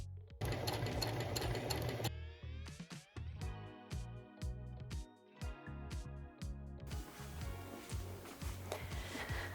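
Sewing machine hemming a cardigan made from a vintage kimono, with bursts of rapid stitching broken by short pauses and slower, individual needle strokes, close and alone.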